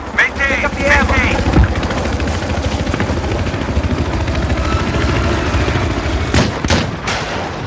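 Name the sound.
helicopter flying in a video game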